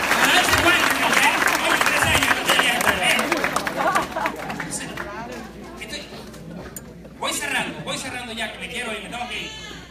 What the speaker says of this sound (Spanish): Siéntese, un aplauso, Samuel.